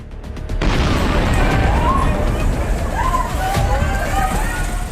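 A dramatized explosion strikes in a Johar Town, Lahore news segment. A sudden loud boom breaks in after a brief pause and gives way to a sustained rumbling roar and crowd commotion, with a narrator talking throughout.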